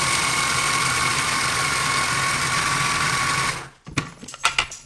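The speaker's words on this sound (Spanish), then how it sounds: "Voy a procesar un poquito más." A food processor whirs loudly and steadily as it grinds grated coconut with quinoa, then cuts off abruptly and is followed by a few short knocks and clatters.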